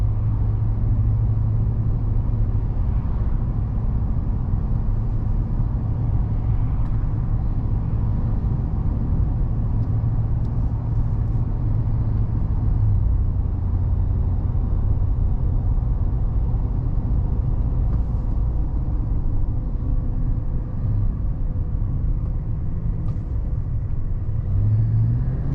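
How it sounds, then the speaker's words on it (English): A 2024 Chevy Silverado 2500 HD with the 6.6L gas V8, heard from inside while driving, gives a steady, loud low engine drone and road rumble that lasts the whole stretch with no speech. "This V8 actually sounds pretty good too."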